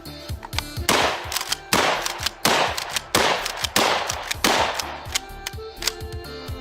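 A cheap Chinese-made shotgun fires Federal Premium high velocity lead shot outdoors, producing about six loud, sharp blasts at uneven intervals, each ringing out briefly, with the clack of the action cycling and handling noise between shots.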